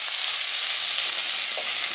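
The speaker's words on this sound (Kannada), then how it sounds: "ಈಗ ಬೆಂಡೆಕಾಯಿನ ಸ್ಟವ್ ಮೇಲೆ ಇಟ್ಟಾಗಿದೆ ಒಂದು ಬಾಣಲೆನಲ್ಲಿ. ಅದಕ್ಕೆ ಸ್ವಲ್ಪ ಎಣ್ಣೆ ಹಾಕ್ಕೊತಿದ್ದಾರೆ." Okra frying in oil in a pan on the stove gives a steady, close, dense sizzle that continues without a break.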